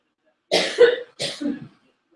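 Two sharp coughs close to the microphone, one after the other, in otherwise silent surroundings.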